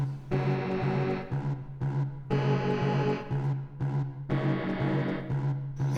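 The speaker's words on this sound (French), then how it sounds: "De la reverb." A music track with reverb and distortion added, dense and loud, playing in phrases of about two seconds separated by short drops.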